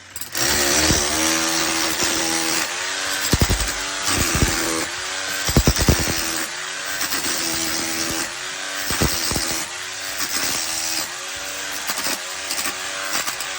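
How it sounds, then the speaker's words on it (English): A power drill grinds loudly in bursts, scraping out cement during a bathroom renovation, its motor whining and rising and falling, with sharp rattling scrapes as it bites in. "What you need to be doing is angle your drill. And you want to be scraping it out."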